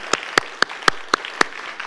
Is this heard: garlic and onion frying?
no